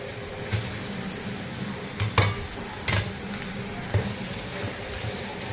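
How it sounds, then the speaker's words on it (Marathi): A spoon scrapes and clinks against a pan as rice is stirred into vegetables coated in Schezwan sauce, with a few sharp taps spaced irregularly over a soft background hiss. "राईस व्हेजिटेबलमध्ये छान मिक्स करून घ्यायचं आहे"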